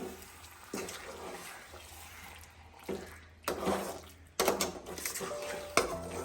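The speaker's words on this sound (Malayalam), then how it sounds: "നന്നായി ഇളക്കണം." Lemon pickle being stirred in a pan with a spoon, giving irregular scraping and clinking bursts of utensil against metal, moderately close, with quieter gaps between strokes and no talking.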